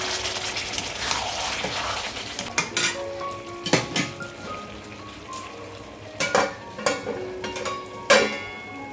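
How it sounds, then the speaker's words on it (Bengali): A spoon scrapes and clanks in a pot as meat for biryani is stirred and sautéed over a medium flame, giving repeated loud metallic knocks over a steady sizzle. "মোটামুটি একটা ফ্লেমে আমি এরকম আমি মাংসটাকে কষিয়ে নিচ্ছি"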